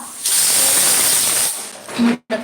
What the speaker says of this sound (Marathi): कुकरची सिटी